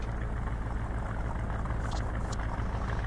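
A car engine idles in the 1999 video game Driver, a steady low rumble holding an even, unbroken drone throughout, close and moderately loud, with no one talking.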